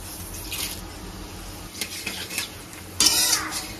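Bay leaf, black cumin and dried chilli hit hot oil left from frying rohu fish, giving a soft sizzle with several clinks and scrapes of a utensil against the pan and a louder crackle near the end.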